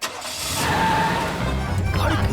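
A big car engine starts up in an Oggy and the Cockroaches cartoon, cranking into a steady, loud mechanical roar with a whining tone, followed by clattering rattles near the end.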